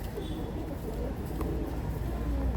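Saki teddy pigeons, a Pakistani fancy breed kept as a pair of cock and hen, coo in low, soft murmurs over a steady background hum, with no voices.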